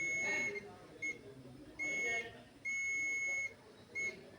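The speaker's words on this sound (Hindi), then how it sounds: "तो देखो बीप आ रही है" A multimeter on continuity mode emits a high electronic beep while it tests the power switch of an Epson L805 printer. The beeps come in short and longer bursts, some held for nearly a second, over faint room noise and a low voice.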